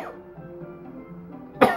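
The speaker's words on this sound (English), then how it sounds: "Little coughing fit." A brief, close cough bursts out near the end after a stretch of soft background tone from a role-playing game session.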